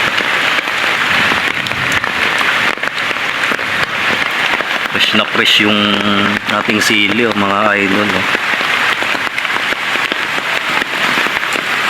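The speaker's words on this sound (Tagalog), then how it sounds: "grabing lakas ng ulan mga idol walang humpay na ano, pag-ulan" Heavy rain pours down in a steady, loud hiss that runs the whole time, with someone speaking over it partway through.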